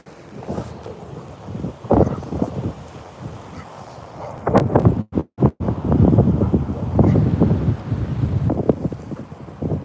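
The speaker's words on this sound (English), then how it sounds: "I have to hold it because the wind wants to push it over." Strong outdoor wind buffets a phone microphone set down at a railway line, producing loud uneven rumbling gusts with a few brief dropouts and no talk.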